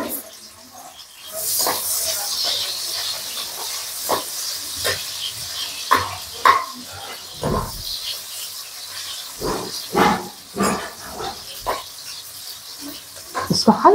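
Two medium-sized chopped onions frying in cooking oil, a steady soft sizzle and hiss running under a person talking throughout.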